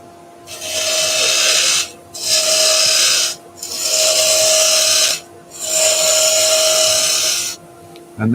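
A wood lathe turns a workpiece while a beading tool cuts, giving four loud, hissing, scraping passes separated by short pauses, close up.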